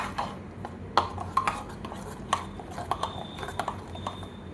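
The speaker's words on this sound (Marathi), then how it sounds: "मिक्स करू आपण." A spoon stirs besan flour into tomato saar in a pot, with soft scrapes and light metallic clinks, fairly quiet and irregular, with no talking.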